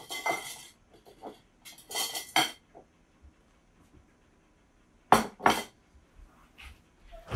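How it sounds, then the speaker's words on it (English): A whisk clinks and scrapes against a pan while salt is worked into espagnole sauce, in short separated bursts of metallic rattling with quiet gaps between. "Whisk it in."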